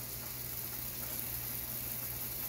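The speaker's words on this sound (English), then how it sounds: "They are starting to sizzle now" Hash browns sizzle in a pan, a steady hiss of frying that stays even and close from start to finish, with no voices.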